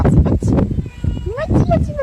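A black cat meows several times in rising, drawn-out calls on a rural estate with a rose garden, close by and partly under a person talking.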